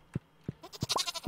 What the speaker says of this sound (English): Hello, goat.